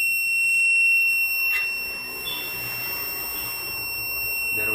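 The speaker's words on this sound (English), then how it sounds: "You can hear the buzzer is ringing." A buzzer on an Arduino fire alarm with flame and smoke sensors rings continuously as a shrill, sustained electronic tone, close by and steady, with a few faint clicks and no speech.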